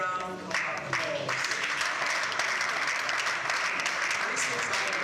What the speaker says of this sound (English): can we give Asbon an outstanding round of applause?